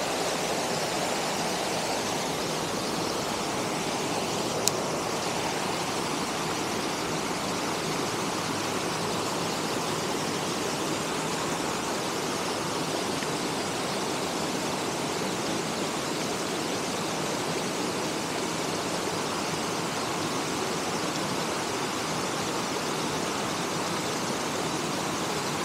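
A waterfall cascades beneath an arching old birch tree, a steady broadband rush of falling water, constant and fairly close, with no voices over it.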